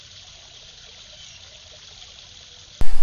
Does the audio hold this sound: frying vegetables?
no